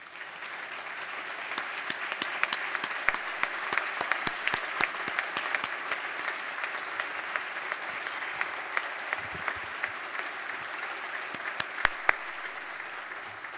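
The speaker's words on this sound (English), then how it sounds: "Could Emily and Doreen please stand up so we can give you a round of applause for your work?" Sustained round of applause fills a House floor session, dense steady clapping from many hands at moderate level, a few sharper claps standing out, with no talking over it.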